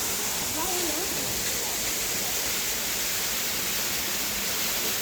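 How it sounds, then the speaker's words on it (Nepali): Water rushes and bubbles steadily in a stream along the Manichud Daha hike, a continuous close hiss with a faint voice briefly underneath. "यो त पानी पराउँछ एकदम बब्बल आउँछ यहाँ"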